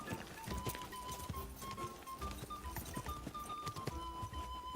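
Hooves of Pebbles the horse in Kingdom Come 2 clatter in a steady running rhythm under game music, moderately loud and close throughout.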